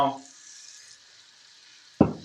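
Butter and a splash of oil sizzle softly in a pan, a faint steady hiss after a brief voice, with a sudden louder clatter near the end.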